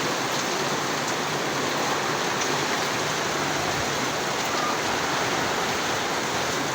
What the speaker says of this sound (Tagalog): Malakas na po yung ulan, malakas.